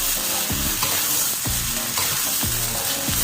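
Rice being stirred with spice paste in a pan for Malaysian nasi lemak, a steady close sizzle broken by repeated scraping stirs at a loose rhythm, with no talk.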